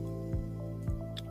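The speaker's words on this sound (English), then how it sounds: "I wonder if my water bottle's noisy." Liquid sloshing and dripping inside a water bottle, a few soft squishy gulps at a slow rhythm, faint and close, alone without talk.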